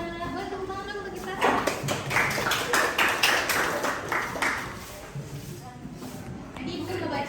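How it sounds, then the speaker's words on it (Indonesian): A school class claps together for themselves, a burst of dense applause rising in the middle and fading, with a teacher's voice speaking over it before and after. "Boleh tepuk tangan dong untuk kita."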